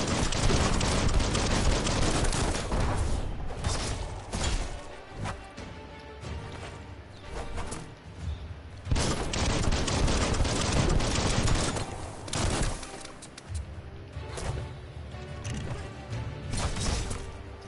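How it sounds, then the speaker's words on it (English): Sustained rapid gunfire from a weapon in the Biomutant video game, loud dense volleys running almost continuously with short lulls between bursts. "Why does this gun always click click?"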